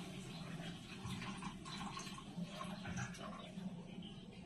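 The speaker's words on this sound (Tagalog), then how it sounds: "dagdagan pa natin ng tubig." Water being poured into a cooking pan of homemade gravy, a steady running liquid sound up close with a person speaking over it.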